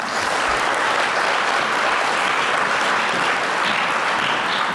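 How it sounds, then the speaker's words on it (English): Sustained applause from a conference audience at a UNESCO youth education forum, steady and even throughout with no break, a full room clapping at moderate distance. "I think they deserve a round of applause."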